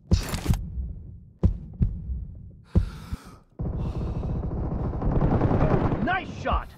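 Gunfire in a team deathmatch video game: sharp separate shots ring out early, followed by a longer stretch of sustained firing and action noise with game voices mixed in.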